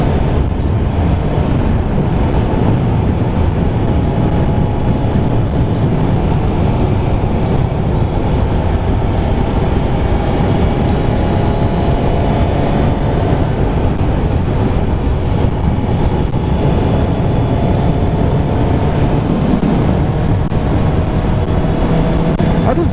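A Suzuki GSX-S 750 motorcycle cruising along Rice Canyon Road in Fallbrook, California, its engine drone blended with heavy, constant wind rush at the helmet, loud and unbroken throughout.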